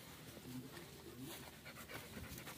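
A puppy pants rapidly outdoors with faint whimpers, quiet and somewhat distant under steady background noise.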